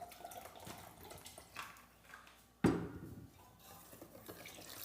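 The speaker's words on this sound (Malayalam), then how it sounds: "വെള്ളം ഒഴിച്ചെടുക്കുകയാണ്" Water poured into a blended mango juice lands with a sudden splashing gush midway, then trails off into softer trickling and liquid movement, heard up close.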